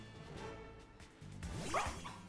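Fidough, a small dog-like Pokémon in Pokémon Scarlet, gives a short yipping bark-like cry, faint and brief, heard over quiet game background.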